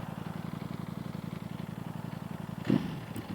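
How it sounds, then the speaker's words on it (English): A 2020 Ducati Panigale V4 motorcycle engine runs loud and steady with a rapid, throbbing pulse, then briefly surges in a sharp rev near the end, heard close up with no talk. "Oh god, this engine is just so loud."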